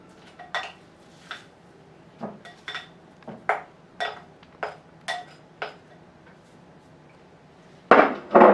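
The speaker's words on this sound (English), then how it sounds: "That's why I'm using my sturdy wooden spoon, so it mixes this Pkhali really well." Wooden spoon knocking and scraping through stewed vegetables and walnut paste for Georgian pkhali, giving a series of sharp, close taps on a bowl at irregular intervals, ending in a louder burst of clattering.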